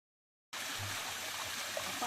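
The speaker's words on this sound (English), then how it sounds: "we came across a small waterfall" Water from a small waterfall on a misty hill trail rushes steadily after a brief silence, a continuous close splashing hiss with no voices.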